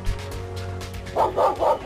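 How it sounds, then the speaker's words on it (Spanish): A dog in the video game The Visitor Returns lets out a quick run of four loud, close barks after a quieter stretch of low game ambience, with no talking. "el perro me ladra"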